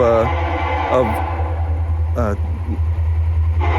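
A freight train of empty lumber pallet cars passes close by, making a loud, continuous low rumble with a rush of wind while people talk over it.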